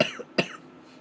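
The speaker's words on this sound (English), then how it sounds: "Cough." Two short, quiet coughs from a person, about a third of a second apart, close to the microphone in an otherwise quiet room.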